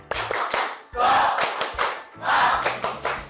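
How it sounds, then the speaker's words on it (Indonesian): A group claps a rhythmic 'tepuk semangat' cheer in a classroom: two bursts of brisk, patterned clapping with voices shouting along, loud and close. "Sekali lagi, tepuk semangat."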